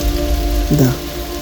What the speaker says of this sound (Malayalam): മഴ കണ്ടിന്യൂസ് ആയിട്ട് പെയ്യുന്നുണ്ട് കേട്ടോ